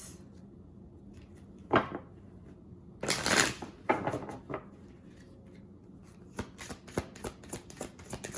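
Oracle cards are shuffled by hand at close range, with quiet riffles and bursts of card flutter followed by a run of crisp, quick taps and slaps as the deck is handled.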